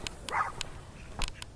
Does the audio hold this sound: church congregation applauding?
no